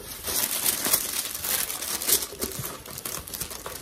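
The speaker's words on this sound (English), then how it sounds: "Let's open the box." Cardboard and paper packaging crinkling and crumpling as a clothing subscription box is unpacked, a steady close rustle with sharper crackles throughout and no talking.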